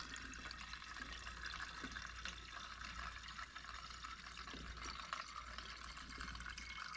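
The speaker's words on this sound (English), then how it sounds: "It fills up pretty quick depending on the size of your hose that you're using." Steady, faint rush of water from a garden hose filling a container for making elderberry wine, a continuous even stream.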